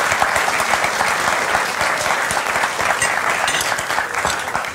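Steady studio audience applause from a German cooking show, dense even clapping throughout at close range, with no talk over it.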